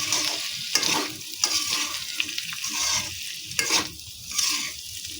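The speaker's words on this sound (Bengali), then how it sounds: "এখন এগুলোকে ভালো করে মিশিয়ে নিচ্ছি" Spiced drumstick flowers being mixed in a pan of oil, with scraping stirs and a steady sizzle over about five seconds, close and fairly loud with sharp spoon strokes recurring throughout.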